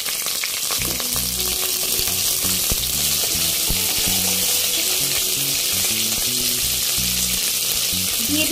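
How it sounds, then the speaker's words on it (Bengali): Potatoes and cut vegetable stalks fry in hot oil with a loud, steady sizzle and crackle, broken by occasional stirring scrapes and clatters close by, with no talk. "আলুটা ভেজে নেবার পর এর ভেতর দিয়ে দিলাম টুকরো করে কেটে রাখা ডাটা।"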